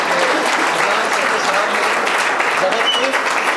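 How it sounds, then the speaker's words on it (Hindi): Loud, dense applause from a seminar audience, continuous and even throughout, with no break in the clapping. "जोरदार तालियों से हिम्मत अफजाई कीजिए"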